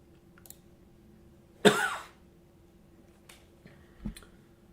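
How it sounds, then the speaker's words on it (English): A man recovering from strep throat coughs once, a single harsh burst close to the mic, followed by a couple of faint clicks and a small throaty sound in an otherwise quiet room. "So I'm going to sit here and cough my lungs out."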